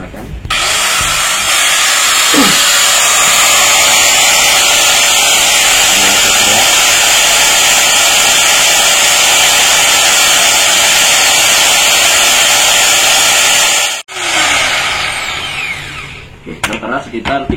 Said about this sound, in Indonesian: Selanjutnya kita bandingkan dengan Makita 9553B. Oke, kita nyalakan.